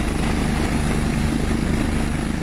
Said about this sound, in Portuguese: Repare que o bico do helicóptero fica alguns minutos tombado, praticamente em posição vertical.